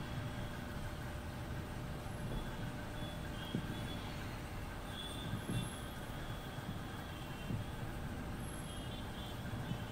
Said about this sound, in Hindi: Borivali church get slow local भी आ गई है हमारे साथ प्लेटफॉर्म क्रमांक 3-2।